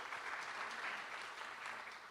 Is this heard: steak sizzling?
no